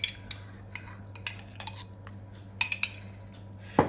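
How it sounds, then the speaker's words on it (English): A utensil scraping and clinking against a plate while jam is mixed to break up lumps, a series of sharp light taps and scrapes in a quiet room. "usually I put it in a plate and then I'll mix it a bit so it breaks the"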